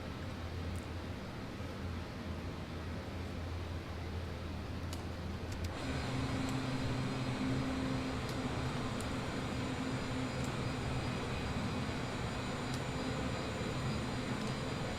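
Boeing 787-10 airliner in flight in Flight Simulator 2020, a steady jet engine drone with a low hum that shifts to a slightly different tone partway through, continuous and even, with no talking.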